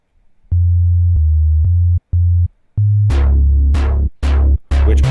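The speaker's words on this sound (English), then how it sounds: "adding a sine wave behind that original synth doesn't sound bad" A Sytrus synthesizer in FL Studio plays a pattern of pure, humming sine-wave notes, loud and clean, with sharper, brighter note attacks joining partway through.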